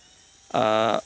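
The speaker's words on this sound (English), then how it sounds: "So let's remove the strings. Let's use a power tool." A power tool buzzes steadily and loudly for about half a second as it winds strings off a Gibson L-00 Studio acoustic guitar, starting abruptly after near silence and stopping cleanly.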